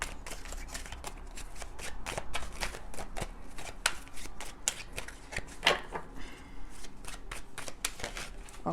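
Tarot cards being shuffled, a steady run of soft, close riffling and flicking clicks over several seconds, quiet and without speech.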